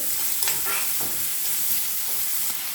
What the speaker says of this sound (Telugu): ఒక పెద్ద మీడియం సైజు ఆనియన్ చిన్న ముక్కలుగా కట్ చేసేసుకొని వేసేసుకోవాలి సరే అయితే బాగా వేగనివ్వాలండి ఉల్లిపాయ ముక్కలు